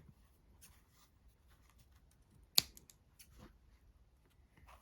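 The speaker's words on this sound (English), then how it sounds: "weave my yarn tail through to the back of my work again and cut it" Scissors cut a yarn tail in one crisp, quiet snip near the middle, surrounded by faint rustling and handling of the crochet work.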